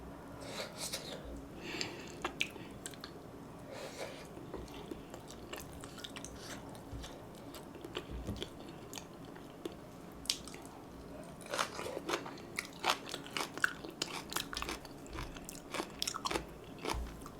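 Spicy braised chicken with chicken skin being chewed close to the microphone, with soft squishy mastication and irregular crunchy bites that grow more frequent toward the end.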